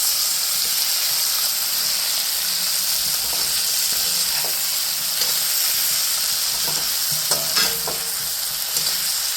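A pork dish with tomatoes fries in a pan, giving a steady close sizzle and hiss with occasional stirring scrapes and clinks throughout, no voices.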